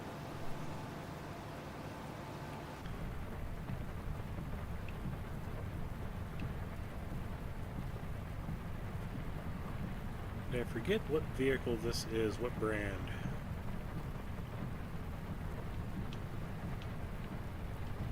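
Steady rain hiss with low rumbling thunder in the video game Farming Simulator 25, continuous and even throughout, while someone talks over it.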